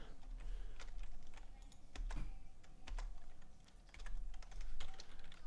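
Keys clatter on a computer keyboard in quick, uneven bursts of taps, close and moderately quiet, with short pauses between runs and no talking.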